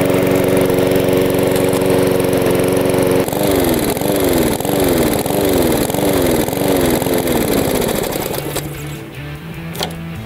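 A petrol lawn mower engine runs steadily and loud, its drone shifting into a rhythmic pulsing surge midway as it is left running to burn off its remaining fuel, then sputters and fades near the end.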